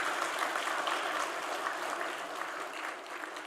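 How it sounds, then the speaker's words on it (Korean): A church congregation claps after a choir's hymn at a Sunday service, a dense, steady wash of applause that holds evenly throughout at a moderate distance. "다시 한번 감사와 영광의 박수 올리겠습니다."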